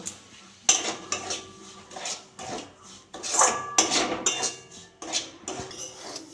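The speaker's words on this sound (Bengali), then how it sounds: "কড়াতে একটু ঘি দিয়ে দেব সুজিটা দিয়ে ভেজে নেব" Semolina roasting in ghee in a wok, a metal spatula stirring and scraping with irregular clinks and scrapes against the pan, close and fairly loud, no voices.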